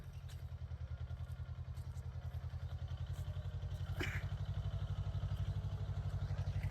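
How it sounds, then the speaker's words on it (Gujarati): A tractor's diesel engine thumps in a steady, fast rhythm as it comes along a village road, close and growing slightly louder, with no voices over it. "ટ્રેક્ટર તમને બતાવું આવી રહ્યું છે આગળ"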